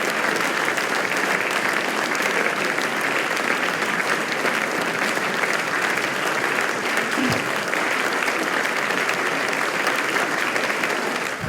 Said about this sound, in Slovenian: Neja Anderle, poleg aplavza si zaslužijo tudi cvetje.